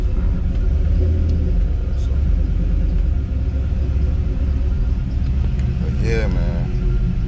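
A car engine idles just above 1,000 RPM after a fresh start, giving a steady low rumble throughout with a brief higher whine near the end.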